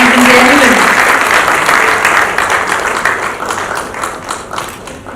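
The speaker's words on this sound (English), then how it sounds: "can you give a big round of applause, ladies and gentlemen?" A crowd breaks into loud, steady applause that slowly thins out, with a brief voice at the very start.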